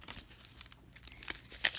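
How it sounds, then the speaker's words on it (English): A Dandelion Maya Mountain Belize 70% chocolate bar's recycled paper wrapper being opened: quiet, close crinkling and papery tearing in irregular bursts, with no speech. "Okay, let's open it up. You can see this is recycled paper."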